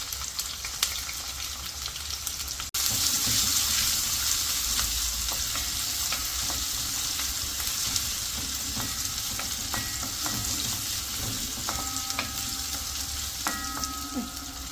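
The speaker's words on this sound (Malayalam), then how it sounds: "അതിലേക്ക് നമുക്ക് ഇഞ്ചി ഇട്ട് കൊടുക്കാം. പിന്നെ വെളുത്തുള്ളി ഇട്ട് കൊടുക്കാം. നമുക്ക് നന്നായിട്ട് വരട്ടിയെടുക്കാം." Ginger and garlic sauté in hot oil for a roasted-coconut crab curry, a loud continuous sizzle with stirring scrapes, jumping in sharply after a brief pause as the pieces hit the pan.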